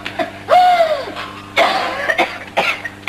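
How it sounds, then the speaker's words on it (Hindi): An old woman in a 1963 Bollywood film coughs in several harsh, close bursts, each separated by brief pauses and ragged breaths, loud and with no talk. "अरे माँ, ये तेरी पुरानी खांसी तो फिर से उखड़ गई है।"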